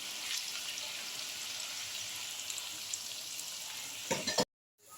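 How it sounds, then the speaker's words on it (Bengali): Semolina medu vadas fry in oil with a continuous, fairly quiet hiss and bubble. A few louder spatters come near the end before the sound cuts off abruptly. "দেখো আমি এইভাবে সব বড়াগুলো আস্তে আস্তে এবার ভেজে নিচ্ছি"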